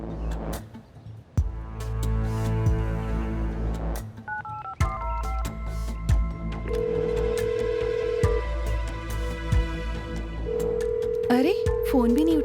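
A telephone rings repeatedly and goes unanswered, the tones and dial-style beeps stacking over a steady background. Voices talk briefly around the rings.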